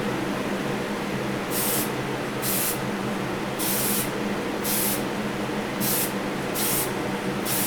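Diamond dust silver base coat sprayed onto a 1968 Pontiac Firebird body, heard as eight short hissing bursts from a spray gun at an uneven pace over a steady background hum, close and clear with no talk.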